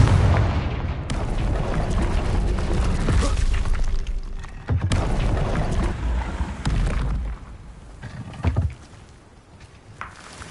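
The Confringo fire spell in a video game goes off as a loud, rumbling blast with crackling debris, followed by a sustained roar, a second burst midway and a sharp hit before fading.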